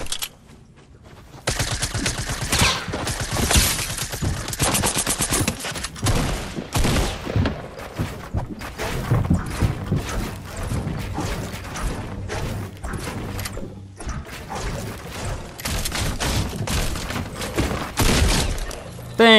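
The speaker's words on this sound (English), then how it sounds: "someone's shooting at me" Rapid bursts of gunfire in the game Fortnite rattle on almost nonstop across the whole stretch, with dense, loud volleys, brief lulls and shattering impacts mixed in.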